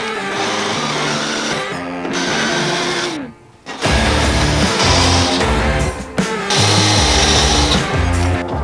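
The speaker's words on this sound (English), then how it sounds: "now that the spot welds have been drilled out" A power drill grinds loudly through metal drilling out spot welds on a 1965 Mustang frame rail, in several long bursts, briefly stopping and restarting, close and harsh.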